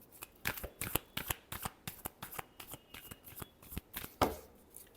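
Tarot cards are shuffled close up, a quick series of crisp riffling slaps and flutters in an uneven rhythm, fairly quiet, with no talking.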